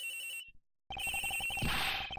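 A cell phone rings in the Ace Attorney Investigations video game, a bright electronic ringtone that cuts off briefly, then resumes loud and steady with a rising warble.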